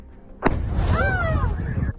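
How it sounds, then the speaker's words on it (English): A drone strike explosion in Ukraine begins with a sudden sharp blast, followed by a long rumbling roar. A voice speaks faintly underneath. "a massive explosion is heard, followed by smoke rising"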